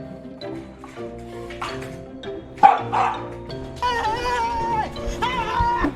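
A frightened dog barks repeatedly at a small drone overhead, loud close barks and yelps mixed with whines, over a busy background.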